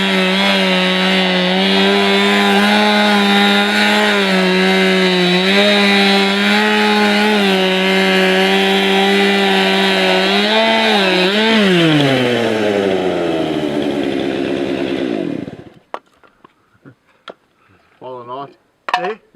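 Chainsaw cutting through wood, a loud close engine snarl with rising and falling pitch as the cut proceeds, then cutting off abruptly near the end, followed by brief clatter and short voices.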